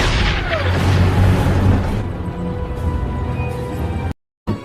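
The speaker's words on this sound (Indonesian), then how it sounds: "Namun tiba-tiba mereka dikejutkan oleh serangan tank panzer." Panzer tanks attack in a World War II battle scene, with a loud, continuous rumble of explosions and booming impacts that fades slightly before a sudden cut to silence.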